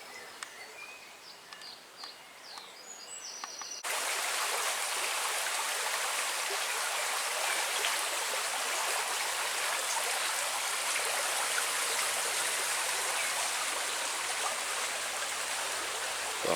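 A river on a countryside walk in the Meon Valley, Hampshire, rushes steadily and loudly at close range after a quieter opening with faint outdoor sounds and birds.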